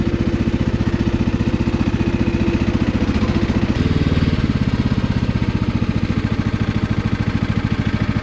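A small lawn tractor runs steadily nearby on grass, its engine giving a continuous rough drone with a brief shift in pitch partway through and no talk over it.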